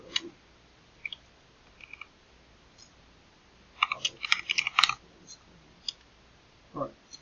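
Typing notes on a computer keyboard, sparse isolated key clicks followed by a quick burst of keystrokes, then a few more scattered taps in a quiet room.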